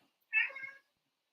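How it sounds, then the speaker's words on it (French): A house cat lets out one short, clear meow, close and fairly loud, with silence before and after. "il y a un chat, c'était ça le bruit"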